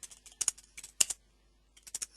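Keystrokes on a computer keyboard, typed in short irregular bursts with a pause in the middle, close and fairly quiet with no talking.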